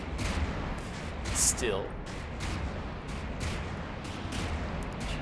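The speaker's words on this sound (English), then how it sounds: "The Steinburg's trying to help with the despawning efforts by shooting." Repeated gunfire from a Steinburg vehicle in a video game: a run of loud, sharp shots in steady succession over a constant rumbling engine drone, with a brief spoken word near the start.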